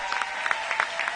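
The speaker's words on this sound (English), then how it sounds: "let's give a round of applause for all of our 1921 awardees" Brief crowd applause for awardees at a founders' pitch night, with scattered claps over a soft, steady bed of clapping.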